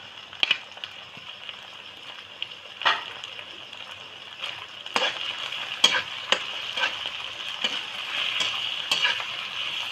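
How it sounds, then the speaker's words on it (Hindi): Steady sizzling from chicken and garlic frying in a hot pan for chicken chowmein, with occasional scraping and stirring clatters over the continuous hiss. "इसको फ्राई करेंगे अच्छे से ताकि चिकन भी पक जाए"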